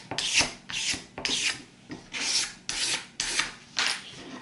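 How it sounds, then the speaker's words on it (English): A small razor blade scrapes sanded wood in close, steady rasping strokes, about eight rhythmic passes with no talking. "Take a little razor blade like this, and once you have it sanded, just give it a nice little scrape."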